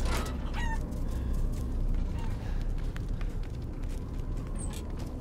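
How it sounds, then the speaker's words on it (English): Chickens cluck and squawk in short bursts over a constant background hum, with occasional sharp calls, in the video game Resident Evil Village on Xbox Series X. "Look at all those chickens!"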